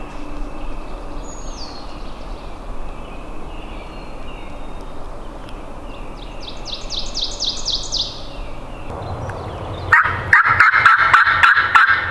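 Wild turkey gobbling in Connecticut woods, a series of rapid rattling gobbles from a bird in a tree, moderately distant over a steady outdoor ambience, followed by louder close rhythmic sounds near the end.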